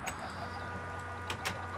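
Chickens clucking in the video game Minecraft, several short overlapping clucks and squawks close by over a steady low background hum, with no talk.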